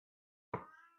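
A house cat gives a single meow, a harmonic cry that starts abruptly and trails off over about half a second, close and fairly quiet with no talk over it.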